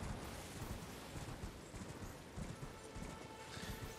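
Horse hooves galloping while riding in the video game Elden Ring, a steady fast drumming of hoofbeats under a dense, loud wash of ambient noise, no voices.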